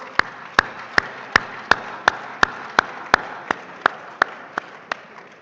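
Sharp, evenly spaced claps ring out about every third of a second at a book launch ceremony honouring Asante royalty, set against a soft murmur of applause from the audience.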